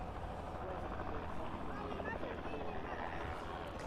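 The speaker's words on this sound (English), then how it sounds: "Looks like the helicopter just hovering there, giving way to the 152." Helicopter hovering at East Midlands Airport, a steady distant rotor and engine drone filling the evening air, faint and continuous, with a voice talking over it.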